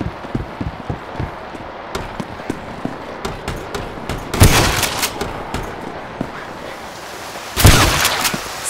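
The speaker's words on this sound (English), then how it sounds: "Shotgun!" Shotgun fire in the video game Left 4 Dead 2, repeated sharp blasts with two louder, longer bursts over continuous game noise.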